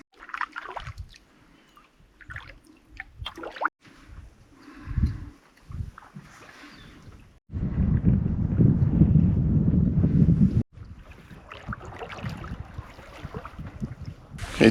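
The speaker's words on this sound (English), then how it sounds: "the wind's picking up on the big lake" Gusty wind on a big Adirondack lake buffets the microphone in uneven bursts, with a long heavy roaring gust in the middle and faint lapping water beneath.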